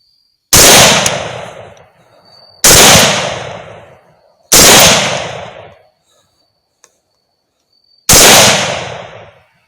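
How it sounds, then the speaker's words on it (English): Four loud, sharp .308 rifle shots fired at fast-running hogs, each a hard crack with a long rolling echo that fades over a second or two, spaced irregularly a few seconds apart outdoors. "I see the lead hog going, so I know that this is it, and this is going to be my opening shot."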